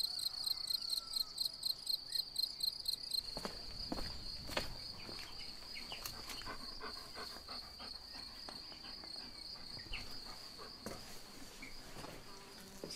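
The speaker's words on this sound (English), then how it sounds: "Look at these crickets. What an awesome sound." Crickets chirping on a farm in Portugal, rhythmic pulsing trills at first, then a steady high insect drone with scattered small taps and rustles nearby, fairly faint.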